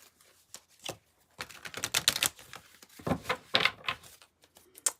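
A deck of tarot cards is handled and shuffled during a reading, giving a string of quick papery riffles and flicks in irregular bursts, close and fairly quiet, with no talking.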